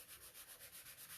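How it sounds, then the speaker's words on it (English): A fine sanding sponge rubs across a painted piece being aged with transfers, a soft, rhythmic scratchy swish in even back-and-forth strokes, close and quiet with no voices. "So now I'm going to come in with this really fine sanding sponge"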